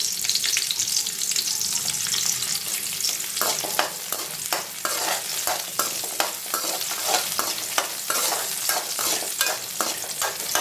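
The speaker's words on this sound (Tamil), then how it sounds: "நல்லா வதக்கிக்கோங்க. வெங்காயம் நல்லா கலர் மாறுற வரைய வதக்கிக்கோங்க." Onions sizzle in a hot pan with ginger and tamarind while being stirred for coconut chutney, a steady frying hiss broken by frequent scraping strokes of the spoon.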